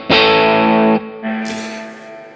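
An electric guitar played through a KingTone MiniFuzz v2 fuzz pedal with a little reverb rings out in a loud, sustained fuzzy chord for about a second, then a second distorted note swells and decays, with no talking.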